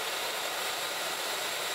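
A shop vacuum runs at a steady hiss-like whoosh for dust extraction from a random orbital sander, continuous and close with no talking.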